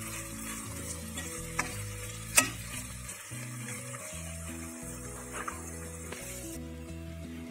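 Jackfruit seeds in a frying pan with coconut, garlic and cumin being stirred, with a steady soft sizzle and scraping strokes over a background of music.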